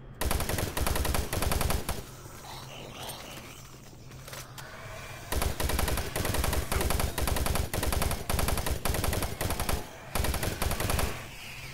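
Rapid automatic gunfire from weapons in the video game Doom 3, loud repeated bursts of shots with a short quieter gap in the middle, no talk.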